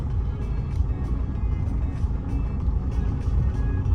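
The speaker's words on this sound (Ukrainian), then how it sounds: "Запустили тачку, все, продукти розложили, водичку, зараз будемо їхати і їсти." A truck engine idling after being started, a steady low diesel rumble with a faint, repeating high tone on top, constant and close throughout, with no talking.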